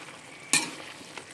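Chicken adobo with broccoli and sitaw stirred in a pan, a single sharp scrape of the utensil over faint sizzling, with a smaller clink just after.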